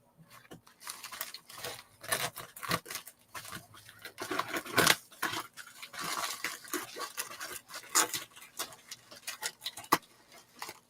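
Scissors cutting through the packaging of a mystery box, a close, quiet series of irregular snips and rustling clicks with small pauses, no talk.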